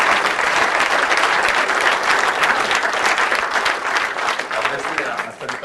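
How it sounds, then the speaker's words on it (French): Loud, sustained applause from a parliamentary audience during a political speech at the 2007 parliamentary days, many hands clapping densely with crowd murmur and voices underneath, easing slightly toward the end. "je crois qu'on peut l'applaudir."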